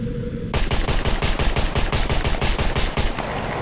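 A 9mm pistol fires at a dropship in the Scum video game: a fast, even burst of roughly twenty loud, sharp shots over about two and a half seconds, with no talking.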